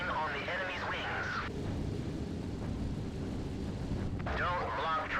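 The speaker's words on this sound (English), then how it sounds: "A sudden devastating air attack." A low, continuous rumble of aircraft and explosions from a Pacific war air attack in the video game Battlestations: Pacific, with a voice speaking over it at the start and again near the end.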